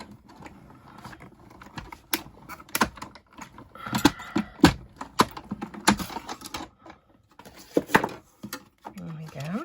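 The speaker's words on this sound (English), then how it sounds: "Let's just cut one of these out." Scissors snip out a die-cut paper insect wing piece made from a scrap of paper, giving a run of sharp, close clicks and rustles with short pauses, fairly loud against a quiet room.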